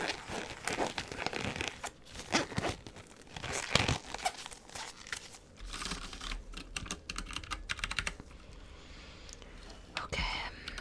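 Keycaps being pressed onto a computer keyboard by a gloved hand, close-up crisp clicks and snaps mixed with crinkling and rustling, irregular and intimate, with soft whispering at times.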